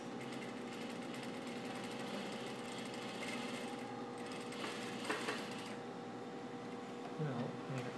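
Sewing machine stitching a rolled, folded hem on a blouse, running steadily and continuously at moderate volume with a faint mechanical rattle, while a voice talks faintly in the background.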